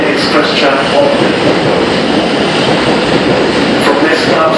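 An R160A Q subway train on the BMT Brighton Line at Avenue M station produces a loud, steady rumble and wheel roar that fills the whole clip, with a constant rolling noise close by.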